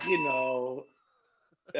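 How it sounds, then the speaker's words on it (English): A bell struck once while a podcast is being recorded in a studio, its bright ringing tone sustaining for under a second before fading to silence, followed by a voice starting to speak. "Why have I hidden my bell?"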